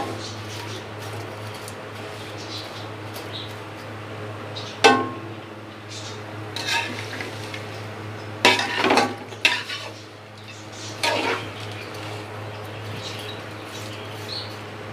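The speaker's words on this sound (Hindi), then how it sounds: "इन सेवइयों को ये भूनना है, घी के अंदर भूनना है।" Vermicelli roasting in ghee in a pan, stirred with a utensil: faint scraping and scattered metallic clinks come in short bursts over a steady low hum, with quiet stretches between.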